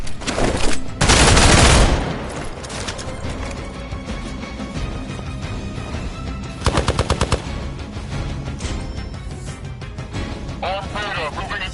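Automatic weapon fire in the video game Marvel Midnight Suns, with loud bursts of rapid machine-gun shots, a heavy blast early on and another sharp burst later, over a busy game soundscape with voices.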